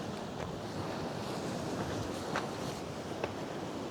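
Waves wash against rocks on the windy coast between West Kilbride and Portencross, Scotland, under constant gusty wind, a steady roar of surf with occasional sharper splashes.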